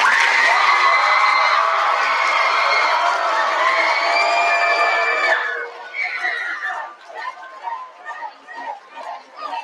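Loud crowd cheering, whooping and applause from a debate finals audience, a dense continuous roar that breaks into scattered, fading claps and shouts near the end.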